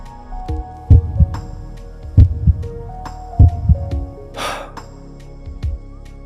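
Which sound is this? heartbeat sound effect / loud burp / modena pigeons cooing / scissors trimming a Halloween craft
heartbeat sound effect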